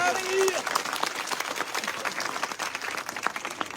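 Crowd applause for the Congress workers of Giddarwa at a village rally: dense, steady clapping from many hands continues throughout, with a brief whistle near the start.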